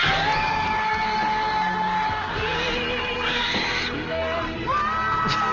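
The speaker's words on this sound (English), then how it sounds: "The title of the video is "Fans' Crazy Reaction to Leonardo DiCaprio's Win, Oscar 2016."" Crowd of fans cheering, whooping and screaming at Leonardo DiCaprio's 2016 Oscar win, played back from a recording; a dense, loud, sustained roar of yells and shrieks throughout.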